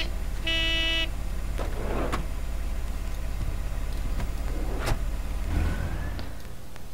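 In The Sims 2, a taxi pulls away with a soft engine rumble and a rising whine, mixed with short chimes, clicks and light game effects at moderate volume.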